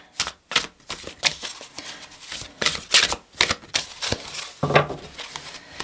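Oracle cards shuffled by hand in a run of crisp, rapid riffles and flicks, close and fairly loud, with short pauses between bursts and no talking.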